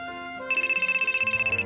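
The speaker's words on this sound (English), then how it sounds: "Your phone has been buzzing forever." A phone rings with a rapid, pulsing electronic trill, near and clear over a faint musical background, lasting under two seconds.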